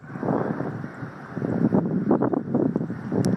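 Wind buffets outdoors in hot weather while an International hay baler is driven, a steady broadband rumble and roar that swells and eases throughout, with no one talking.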